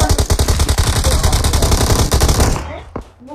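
Automatic gunfire in PUBG Mobile plays as a loud, steady rapid burst of shots that cuts off abruptly, followed by a single sharp shot.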